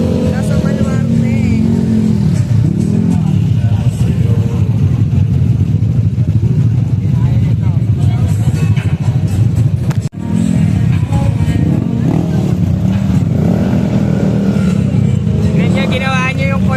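Motorcycles, including Yamaha Aerox scooters, ride through a former basketball court now used as a motorbike lane at a night gathering, their engines droning loudly and steadily throughout while people talk over them.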